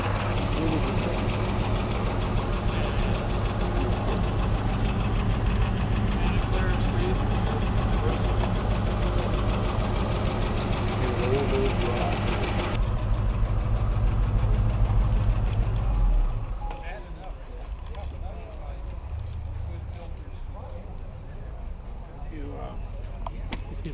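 A 1932 Ford V8 engine runs steadily with a low rumbling idle and slight knocking texture, loud and close, then drops to a quieter, rougher idle partway through; a voice is heard speaking over it.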